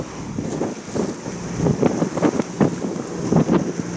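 Wind of about 10 knots rushing past a sailboat on the Mediterranean off France near Rosas, a steady buffeting roar with gusty swells, loud and close without voices.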